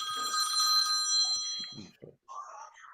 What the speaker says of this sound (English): It sounds like one of those old phones.